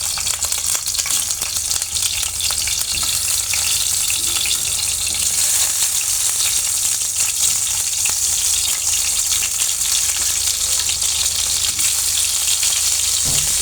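Chopped tomatoes hit hot mustard oil in a pan, giving a loud, dense, continuous sizzle and hiss that holds steady throughout at close range, with no voices.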